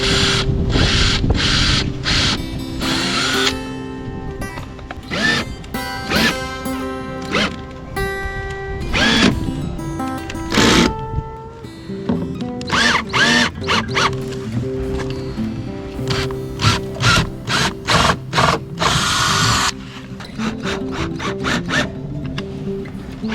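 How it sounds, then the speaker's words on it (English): Screws are driven into a bowsprit on a trailer sailboat being converted to a mini cutter rig. A close power driver whirs in repeated short bursts, with clicks and handling noises in between. "I think we can get a set of screws and screw these guys down."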